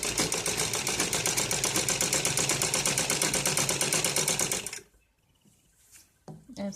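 A sewing machine runs a long, even stitch along a net cloth ladies suit, its rapid rhythmic clatter loud and close for nearly five seconds before stopping, followed by a few soft handling sounds.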